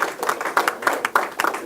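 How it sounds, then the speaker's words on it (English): A press conference audience gives a short smattering of hand claps, a few separate claps in uneven rhythm, fairly close. "that deserves an applaud, right?"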